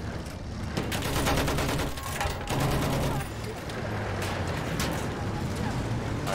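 Gunfire from a tank battle in a mortar landship versus tank hunter video game match, a dense, continuous fusillade of shots and rumbling engines, loud and close throughout with voices talking over it.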